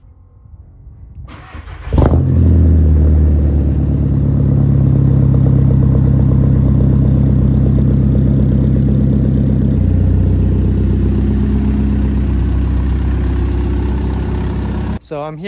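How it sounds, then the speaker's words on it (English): A car engine on a JDM build cranks and catches, then settles into a loud, steady idle with mild revving that holds close by for over ten seconds before cutting off abruptly. "Let's start the car"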